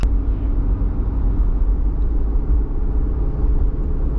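A jeep drives along in two-wheel drive, its engine a steady low rumble heard from inside the cabin, continuous and even with no talk.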